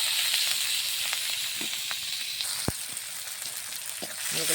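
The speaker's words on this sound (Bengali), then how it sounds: "পেঁয়াজ একটু লাড়াচাড়া করে নিলাম" Onions frying in oil in a wok, a continuous loud sizzling hiss with occasional scrapes and taps of a spatula, close up.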